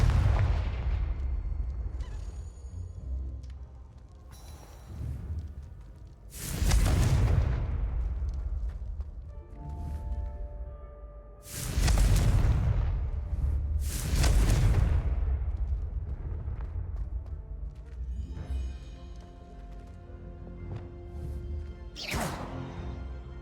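Confringo blasting spells explode in Hogwarts Legacy: about five heavy, booming blasts in irregular succession, each with a broad crack and a rumbling tail that fades between hits.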